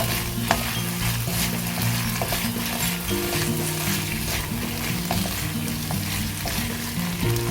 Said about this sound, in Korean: 저는 그냥 기름에다만 이렇게 볶도록 하겠습니다